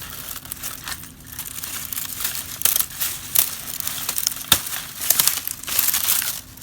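A sugarcane stalk is cut a few inches above the soil, giving sharp crackling snaps and crunching bursts with rustling of dry leaves, close and fairly loud, with no talking.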